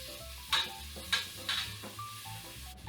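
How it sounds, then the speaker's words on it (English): Bacon browning in a pot, sizzling steadily with a few scraping stirs at a close, moderate level. "We're going to brown the bacon and leave all the drippings in the pot,"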